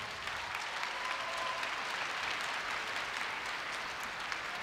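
An audience at a university entrance ceremony applauds, a broad, sustained round of clapping that stays even and unbroken throughout.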